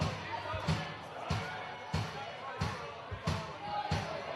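Rhythmic, evenly spaced hand clapping from an audience keeping time with live Irish music, crisp close claps layered over the playing band.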